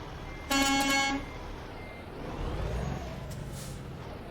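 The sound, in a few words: truck horn honking in American Truck Simulator video game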